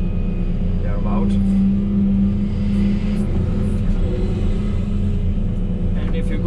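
A diesel excavator engine rated at roughly 307 horsepower idles with a steady, loud low rumble and droning hum, and a voice seems to be speaking over it throughout.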